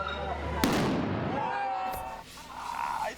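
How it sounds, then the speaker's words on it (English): Fireworks burst at the burning of a paper effigy in Mexico, with a sharp loud crack followed by crackling and a second pop, mixed with crowd noise and voices. "Fireworks exploding inside and outside"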